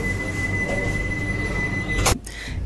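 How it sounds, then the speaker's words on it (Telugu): Rumbling of a Vande Bharat Express departing Khammam station, with a thin, sustained metallic squeal of wheels, cut by a sharp clunk near the end. "2 నిమిషాల హాల్ట్ తర్వాత మన ట్రైన్ తిరిగి బయలుదేరింది"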